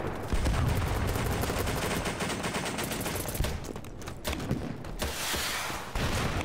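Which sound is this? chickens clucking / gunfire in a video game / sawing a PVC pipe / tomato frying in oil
gunfire in a video game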